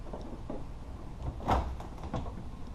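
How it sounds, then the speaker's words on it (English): A Toyota AE86 car door opening, a short muffled thud and latch click in the middle of a quiet garage, with faint softer knocks around it. "I'll try to open the door."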